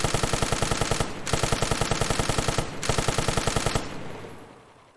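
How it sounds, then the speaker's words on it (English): A tank's machine gun fires in long rapid bursts in the video game Arma, loud and close, with two short breaks between bursts before the fire stops and a fading echo trails off. "Engage with machine gun."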